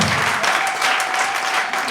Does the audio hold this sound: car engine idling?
no